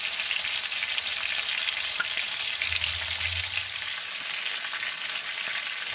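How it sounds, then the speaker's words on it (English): Meatballs frying in a pan, a steady dense sizzle with fine crackling spatters that holds evenly throughout, close and alone with no talking. "allow it to fry until it became brown"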